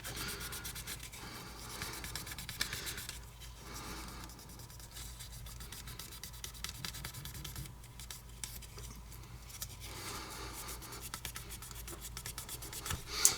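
Faint, close rubbing strokes of 8000-grit sandpaper on an aluminum-coated resin piece repeat in an irregular, soft rhythm, with a low background hum and no speech.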